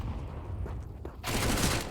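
Brief gunfire in Counter-Strike on the Dust2 map, a short burst of rapid shots that swells into dense, loud firing.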